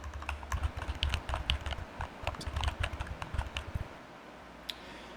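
Pen scratching out a seed phrase on a sticky note, quick faint irregular taps and strokes in close bursts, then stopping near the end.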